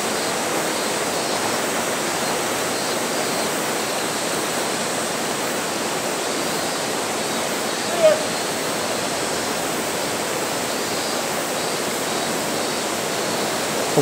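A waterfall pours down a wall of wet rock beside a river at an abandoned tea farm, producing a steady, loud, unbroken rush of falling water close by, with one brief faint knock midway.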